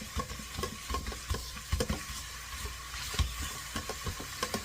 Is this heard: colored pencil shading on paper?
no